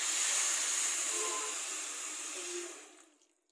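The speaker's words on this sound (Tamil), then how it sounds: "வெள்ளத்தை போட்டு வச்சுங்க, அது முழுகிற அளவுக்கு நம்ம தண்ணி ஊற்றலாம்." Water pours steadily into a pan of jaggery for making barfi, a continuous close hissing splash that holds for a few seconds before tapering off to quiet.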